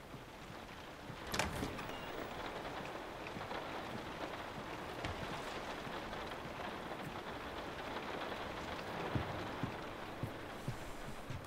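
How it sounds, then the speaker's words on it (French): Steady rain hisses throughout a scene in the video game The Last of Us, a dense, even wash with a brief louder burst near the start and no talking. "Il pleut."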